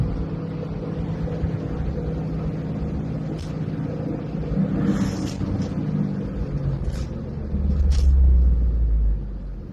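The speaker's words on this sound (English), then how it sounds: "I'm still trying to get home and just get through all this traffic" Car driving home through traffic, heard from inside as a steady low engine and road rumble with a few faint clicks and knocks, the drone swelling louder near the end.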